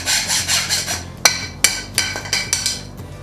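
A hand saw cutting ABS pipe in short, even rasping strokes, a quick run of scratchy back-and-forth cuts at close range with a few sharper knocks, no talking.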